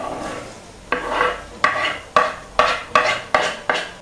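Onion sautéing with green chilli, garlic and curry leaves in a pan for cabbage-egg thoran, with a series of about seven regular, sharp spatula scrapes over a faint sizzle, close and rhythmic.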